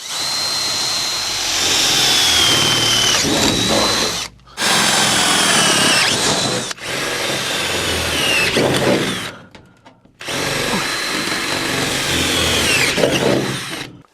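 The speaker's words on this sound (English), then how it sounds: "next up I'm going to use the drill, and we're just going to make a couple of little holes" A power drill drills holes in a metal van panel in three long bursts separated by short pauses, loud and close, with a high grinding pitch as it bites through.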